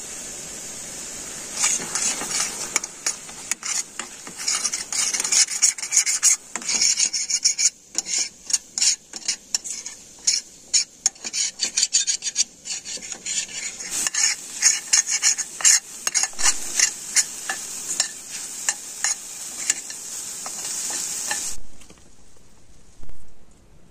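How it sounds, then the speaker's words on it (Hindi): Gravy is stirred and mixed in a pan at a rainy forest campsite in India, with steady close scraping and rasping strokes over a faint sizzle, continuing briskly for about twenty seconds before stopping, with no voices. "एक और मिक्स कर लेता हूँ यार, क्योंकि ना ग्रेवी अपनी काफी ज्यादा हो रही है।"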